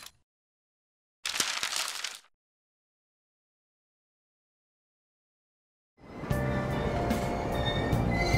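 Persona 5 train ride into Shibuya: a short burst of rumbling noise, a long silence, then a steady, loud rolling of train wheels and carriage with high metallic squeals and tonal hum continuing to the end.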